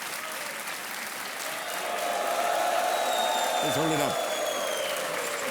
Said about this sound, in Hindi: तालियां बजती रही देवी और सजनों